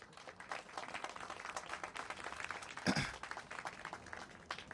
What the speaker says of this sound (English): So I just want to give MOH and their team a big round of applause.